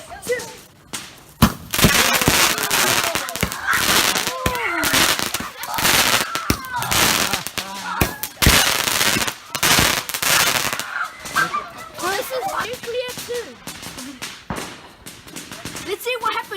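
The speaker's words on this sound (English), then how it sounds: "I'm gonna light it up, and then boom." Ricochet 2 firework lit on Guy Fawkes bonfire night, a long run of crackling pops and sharp bangs mixed with whistling and honking sounds, loud and irregular, with people talking.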